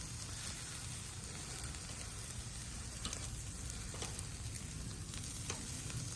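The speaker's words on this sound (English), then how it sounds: "now we got the grill fully loaded" Steak kabobs sizzle steadily on a fully loaded grill, a dense, even crackle with faint pops scattered throughout, close and constant with no talking.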